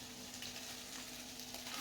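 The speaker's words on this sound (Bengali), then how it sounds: "চাউমিন দিয়ে এবার বেশ খানিকটা সময় ভালো করে ভাজতে হবে।" Chow mein stir-frying in a pan with egg and vegetables for a chicken chow mein gives a steady, close sizzle that runs without a break and carries no talk.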